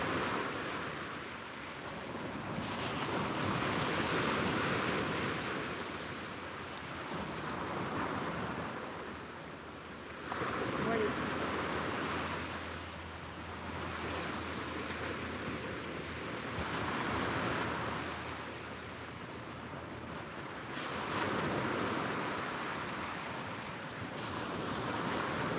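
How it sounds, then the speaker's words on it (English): Ocean waves break on a beach at sunrise, surging and washing in slow repeating swells every few seconds, with wind buffeting the microphone and no talk. "soak in the sounds of those amazing waves"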